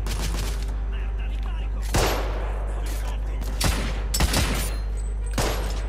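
Gunfire in the video game The Order: 1886, several sharp bursts and volleys spaced a second or two apart over a low constant rumble, loud and punchy.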